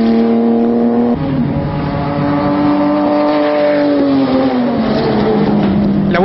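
A race car's engine drones loudly and continuously from onboard during laps on a circuit, its steady pitch dipping at gear changes and swelling again as it accelerates.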